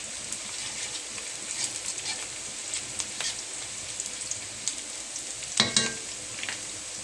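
Onions toast in a pan with a soft, continuous sizzle and crackle, moderately close, broken by a few utensil clinks and stirring scrapes, including one brief louder clatter.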